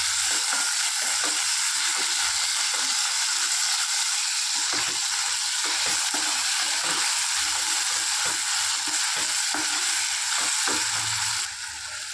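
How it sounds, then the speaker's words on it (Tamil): Tomatoes and onions cooking down with salt in a pan give a steady, loud sizzle that runs unbroken, with scattered faint scrapes and clicks and no one speaking. "தக்காளி நல்லா வேக கொஞ்சம் உப்பு சேர்த்து 5 நிமிஷம் நல்லா வதக்கி விட்டுக்கலாம்."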